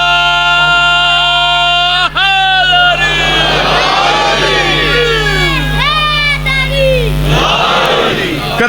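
A large Muharram majlis crowd shouts a religious slogan in unison, loud and close, with rising and falling chanted voices over a steady low drone.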